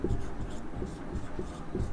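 Chalk or marker writing on a classroom board, a few short faint scratchy strokes in a quiet room with low hum.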